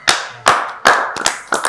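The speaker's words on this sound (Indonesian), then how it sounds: "Ngapain tepuk tangan?" Hands clap four or five times in quick, slightly uneven succession, sharp and close with a brief echo after each, no talking.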